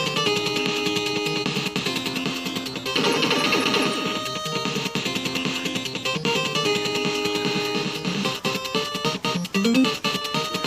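Chiptune game music and effects play from an original Nintendo Famicom console: dense, busy, steady electronic tones at moderate volume with no talk.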